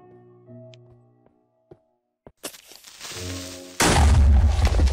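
A creeper explodes inside a cave in Minecraft Xbox 360 Edition: soft game tones and a few thuds lead into a sudden loud, booming blast that rumbles on until the end.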